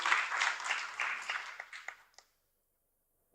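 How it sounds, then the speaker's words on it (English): Scattered applause from an audience at a school anti-bullying talk, welcoming volunteers who have come up front; the clapping is moderate, tapers off after about two seconds and ends in silence. "give these guys a round of applause"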